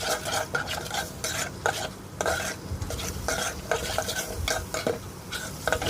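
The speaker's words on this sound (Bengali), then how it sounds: "তারপর আমি ডালগুলো দিয়ে মশলার মধ্যে কষিয়ে নিব ভালো করে" Lentils are stir-fried with spices in a pan for khichuri, with a loud, close sizzle and rhythmic scrapes and clinks of a spoon against metal in repeated strokes. No talking.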